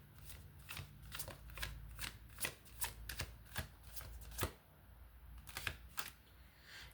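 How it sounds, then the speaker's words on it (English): Tarot cards are shuffled by hand close up, a rapid series of crisp riffling flicks and soft slaps in uneven bursts, quiet and dry, with no voice over them. "Every time I shuffle, this card keeps on wanting to come out."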